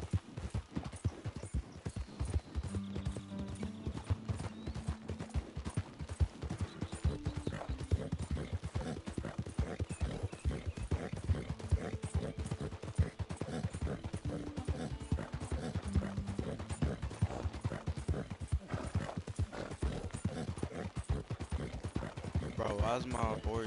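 Steady, rapid clip-clop of a horse's galloping hooves in Red Dead Redemption 2 runs throughout, loud and close, with voices and other game sounds layered over it.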